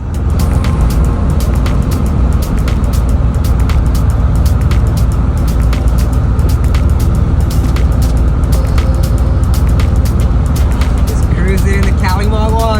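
A VW MK1 fitted with a VR6 engine runs and drives, giving a steady, loud engine and road drone with constant rumble throughout and a few faint clicks and knocks on top.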